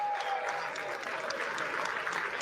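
Applause fills the House chamber during the Speaker of the House vote, a dense sustained clapping from many hands at a moderate distance, with no break.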